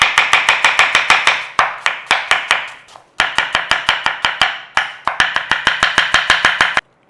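A kitchen knife slicing apples on a cutting board for German red cabbage, with rapid, steady, evenly spaced chops in several bursts, each blade strike crisp and close, and short pauses between runs.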